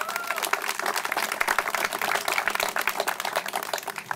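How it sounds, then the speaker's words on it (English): Another round of applause from an outdoor crowd at a Laborers 5K Halloween walk in a park, a brisk patter of clapping hands that stays fairly close and continuous, with faint voices mixed in. "Let's give another round of applause,"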